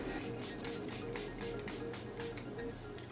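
Quiet, rapid spritzes of a makeup setting spray bottle, a string of short hissing puffs repeated in quick succession.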